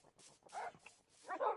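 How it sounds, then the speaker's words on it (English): Several dogs from a pack in Minecraft bark in short bursts, with a few yips and whimpers between them. The sound is close and fairly loud, with the barks coming in two clusters over a moment and nobody talking. "For those that haven't seen the army of doggies."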